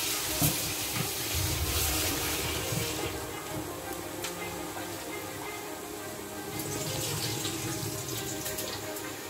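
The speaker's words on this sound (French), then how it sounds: "Il faut que les riz soient bien lavés." Water running steadily from a tap into a sink while rice is washed by hand for a coconut milk rice dish, a constant broad hiss and splash with faint clinks and shifting grains, no talk.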